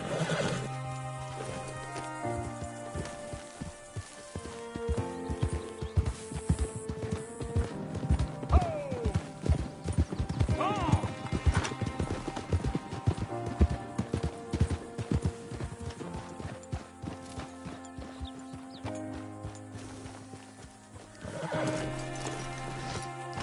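A horse in the video game Red Dead Redemption 2 neighs and whinnies several times over trotting hoofbeats, with music playing underneath and a faint voice now and then.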